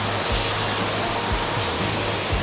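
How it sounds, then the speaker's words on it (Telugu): Steady, broadband rush of a waterfall along the Kedarnath trek in the Himalayas, loud and constant with no pauses, accompanied by a few low thumps. "ఇక్కడ వాటర్ ఫాల్ చూడండి మళ్ళీ"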